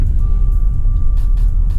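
A Jaguar F-Pace 30d SUV drives in slippery mode, heard from inside as a steady low engine and road rumble with a faint constant whine, alone and without talk.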